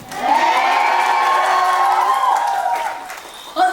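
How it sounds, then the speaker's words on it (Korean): Concert audience at a show erupting in loud, high-pitched screaming cheers that hold steady for about three seconds before fading, with a brief burst of noise at the very end. "많은 함성 부탁드릴게요"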